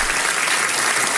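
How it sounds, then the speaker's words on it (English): A dense burst of audience applause, steady and loud throughout with many hands clapping at once, and no voices rising above it. "And a round of applause for that"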